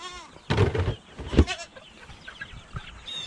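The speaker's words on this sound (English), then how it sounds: "The goats think I'm over here messing with the food, they're getting fed." Goats in a wet farm yard beside a bantam chicken pen give two loud, close bleats in quick succession, followed by quieter background bleats and faint farm noise.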